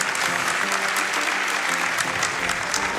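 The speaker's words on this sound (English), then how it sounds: "Can we get another round of applause for that?" A crowd at a speedrunning charity event bursts into steady, dense applause that holds at full strength throughout, with a faint murmur of voices underneath.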